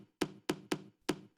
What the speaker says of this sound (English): I've got one more sample, which is a little bloop, I guess